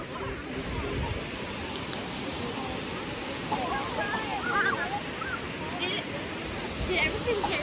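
A river rushes in a steady broadband roar, close and continuous, with faint voices of people talking now and then over the flowing water.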